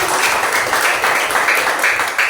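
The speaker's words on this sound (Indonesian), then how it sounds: "Oke, tepuk tangan untuk kita semuanya." Children clap together in an Islamic faith lesson, a dense, steady burst of many small hands that stays loud and close for a couple of seconds.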